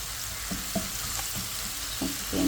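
Boiled potatoes fry with onion and tomato in hot oil, a steady close sizzle broken by a handful of soft stirring scrapes and taps.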